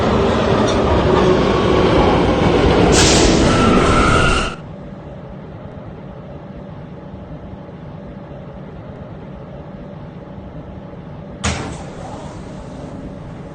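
An R179 K subway car runs with a loud, steady roar for about four seconds, then settles into a lower, even rumble with a brief clatter near the end.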